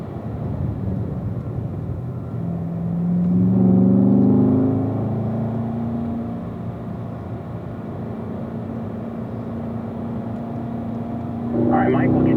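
Corvette race cars on a circuit at a driving school, an engine note swelling and fading as one car passes, then another approaching at the end, under a steady wind-like rumble with a voice speaking over a radio.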